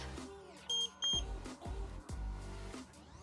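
Two short high electronic beeps ring out close by as an Evercross EV85F e-scooter is turned off, amid faint clicks and handling noise, with a brief low murmur of a voice.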